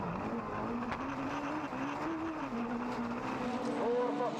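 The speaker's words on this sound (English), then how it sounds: "here we drive with Thijs Heesen in the Ford Fiesta" A Ford Fiesta rallycross race car drives a circuit, its engine note rising and falling steadily at a moderate distance while a commentator talks over it.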